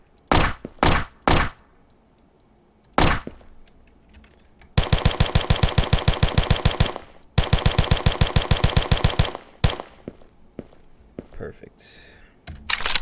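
A machine gun fires in a zombie game under development, with a few single shots followed by two long rapid bursts of loud, evenly spaced gunfire, then more scattered shots.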